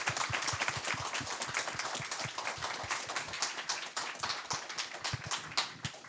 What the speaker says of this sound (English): I would like everybody to give a round of applause to our wonderful guest today, Derry.